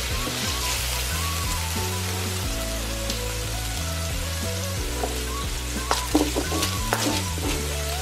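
Ingredients for paella sizzling and frying in a pan, a steady crackling hiss with low bubbling and occasional louder clinks and stirring scrapes toward the end.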